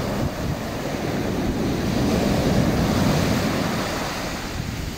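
Ocean waves break on the shore by a beach bar in Gazipaşa, a steady loud wash of surf that swells and fades without a break, with no voices.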